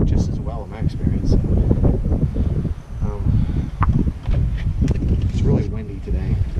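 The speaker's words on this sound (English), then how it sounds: "It's really windy today." Strong wind buffets the microphone with continuous low rumbling gusts, loud and close, with a voice speaking underneath.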